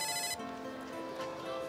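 Phone ringtone plays indoors, an electronic ringing melody sounding steadily and fairly loud with no voices over it.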